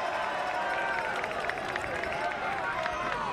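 A large crowd at a 2022 ACC men's soccer semifinal between Syracuse and Virginia roars steadily and loudly throughout, with a dense wash of massed voices and scattered shouts.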